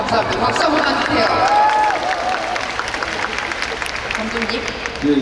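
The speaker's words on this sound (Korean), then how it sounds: "박수 한번 주세요." A crowd at an outdoor film festival stage talk applauds, with a broad, steady wash of clapping and murmur carrying across the open air while voices talk over it.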